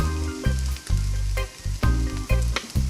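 Butter and sugar sizzle in a pan holding browned bits from egg cooking, a steady close frying hiss broken by repeated low clunks and scrapes of stirring, with no talking.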